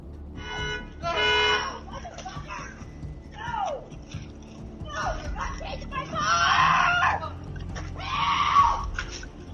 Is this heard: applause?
no